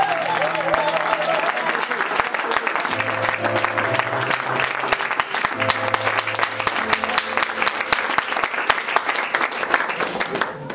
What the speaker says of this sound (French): Qu'est-ce qu'on peut acclamer pour les femmes?